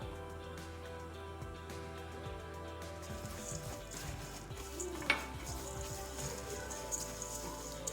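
Salt and two tablespoons of margarine mixed together in a bowl for oatmeal bread, with a steady clink and scrape of a utensil against the bowl and one sharper knock near the middle.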